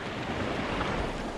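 Sea waves washing near a small fishing boat, a continuous broad rushing surf noise mixed with wind buffeting the microphone, steady and fairly loud with no voices.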